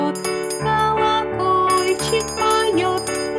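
Small bell ringing in a children's music and rhythm game, bright tinkling strikes repeating in a steady pattern over sustained melodic tones, close and clear.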